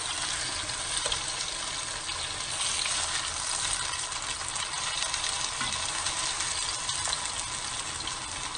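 Squash patties frying in a pan, a steady broadband hiss and sizzle of hot oil with faint watery crackle running continuously at even loudness, no voices.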